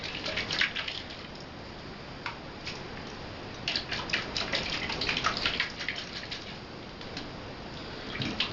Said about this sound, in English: I'll put some in there, put the cap on, I'm going to swish it around